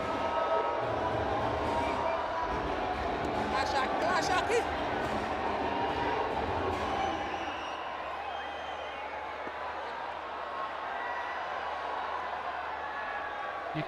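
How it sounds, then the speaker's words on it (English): A cricket stadium crowd at a Legends League qualifier cheers and roars over a commentator's voice, the noise swelling and then settling into a quieter murmur. "You can hear the crowd."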